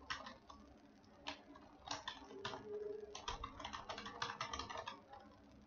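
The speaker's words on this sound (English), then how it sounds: "here you have to type the web address for RSS feed" Quiet typing on a computer keyboard while a web address is entered, with irregular bursts of soft key clicks that grow denser toward the middle and end of the clip, no voices.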